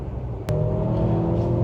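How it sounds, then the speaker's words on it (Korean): Mercedes-AMG GLC 43 SUV with a 2.0 engine in Sport Plus mode, its exhaust droning steadily from inside the cabin after a brief knock, a loud, continuous engine hum. "지금처럼 실내에서도 배기 사운드가 확실히 느껴져서 스포츠카를 운행하는 느낌이 있습니다."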